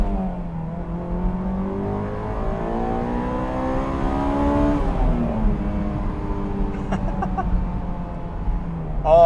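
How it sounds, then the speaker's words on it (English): A Honda AP1 S2000 engine revs high while driving, its pitch climbing through gears in smooth sweeps, loud and close inside the cabin with no talking. "Oh, it loves to rev. It loves being as high as possible."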